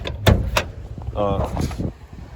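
Driver's door of a 1984 Hurst Olds with T-tops being handled, two sharp thuds early, then mechanical rattling and another solid closing thump, close by with a voice talking over it.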